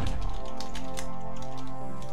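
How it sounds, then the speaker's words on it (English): Quick, irregular clacks from typing on a computer keyboard held at an angle run through the stretch, set against steady tonal game music in the background. "I'm actually typing this at an angle."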